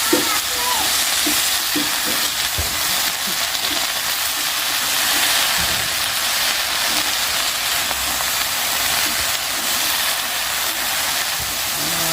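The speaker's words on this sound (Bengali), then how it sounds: "ঢেঁকি শাক ভাজা করতে মোটামুটি অনেকটা সময় লেগে যায় একদম ধীরে ধীরে আস্তা লো করে দিয়ে ভাজতে হয়" Steady loud sizzling of dhenki shak (fern greens) frying slowly on low heat in a pan, continuous hiss with occasional soft stirring scrapes.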